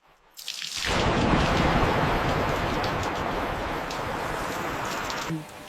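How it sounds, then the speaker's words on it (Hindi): Heavy rain bursts in after a short quiet start, a dense, loud, steady downpour lasting several seconds before easing slightly at the end, with no distinct thunderclap evident. "बारिश आ रही है"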